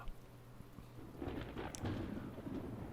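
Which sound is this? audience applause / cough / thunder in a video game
thunder in a video game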